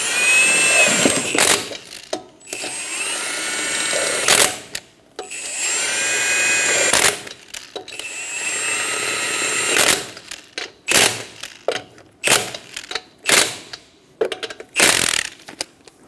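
Impact wrench or similar power tool on the wheel lug nuts of a 1994-1997 Honda Accord 2.2L, running in repeated whirring bursts, several long and then a rapid string of short ones, close and loud with no talk.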